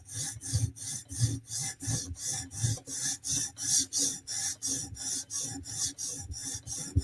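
Knife edge being reprofiled on a clamped sharpener, a close rhythmic rasping stroke repeated about twenty times at an even pace.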